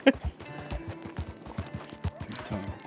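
A donkey in the Red Dead RP game gives a short bray, then its hooves clop in a quick, steady rhythm close by.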